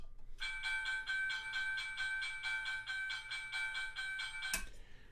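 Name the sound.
railroad crossing signal sound, scale model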